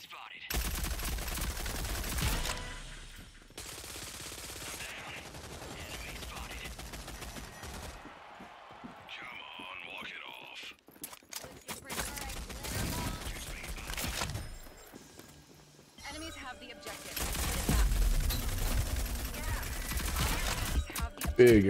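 Video game gunfire in separated bursts, loud and close, with quieter gaps in between and a voice talking over parts of it.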